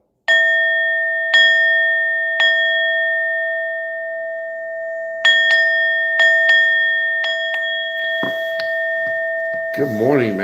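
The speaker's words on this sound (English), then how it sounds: "Ringing the bell for you guys." A bell is struck repeatedly, each bright ding ringing out and slowly decaying, first in spaced single strikes and then in quicker clustered hits, followed by clattering noise and a voice near the end.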